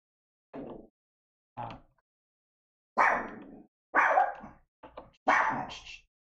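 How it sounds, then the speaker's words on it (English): A female dog barking at home, six sharp barks in uneven bursts, some doubled, fairly close and loud with silence between them. "That's my dog."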